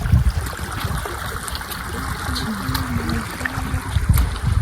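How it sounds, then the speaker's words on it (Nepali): Water flowing in a stream in a Thimphu park, Bhutan, a steady trickling, babbling rush close by, with a faint low engine-like drone running underneath. "पानी मजाले आएको रहेछ कहाँदेखि पनि"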